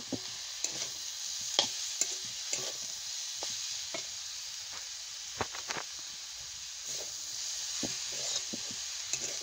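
Makhana (fox nuts) frying in a pan, a constant soft sizzle broken by frequent sharp scrapes and clicks of stirring, close and steady with no talk.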